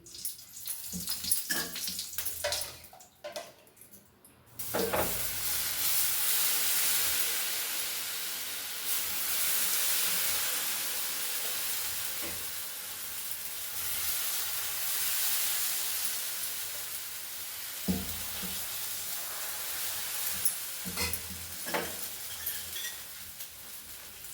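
Rava dosa batter sizzles in oil on a hot pan over low heat, a steady close hiss that swells after a few seconds and carries on alone with occasional small clinks.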